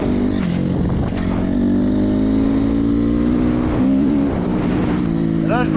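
An enduro motorcycle engine runs close and loud in a steady, throaty drone with slight pitch shifts, holding throughout.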